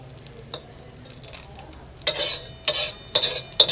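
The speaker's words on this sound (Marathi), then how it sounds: "हे बघा फिश फ्राय केरला स्टाईल" Kerala-style fish frying in a pan, soft sizzling under scraping stirs and metallic utensil clinks that grow louder in the second half.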